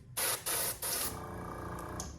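An airbrush sprays white paint onto a bluegill fishing lure in three short hissing bursts, then a quieter continuous spray, close and alone.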